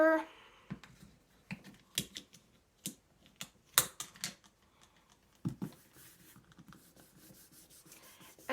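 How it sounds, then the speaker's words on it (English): Pencil eraser rubbing over sketch lines on drawing paper, a run of short, soft scrubbing strokes in irregular bursts, close and fairly quiet, with brief pauses and light paper handling between strokes. "And then I will erase it a bit."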